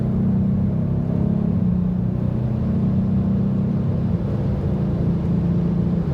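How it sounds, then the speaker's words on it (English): A Kia Stinger GT2 engine hums as a steady, loud, close drone from inside the cabin while the car is driven in paddle-shift mode, its low tone shifting slightly in pitch partway through. "So this is a paddle shifting mode, which I'm putting it in so you can, manually shift gears."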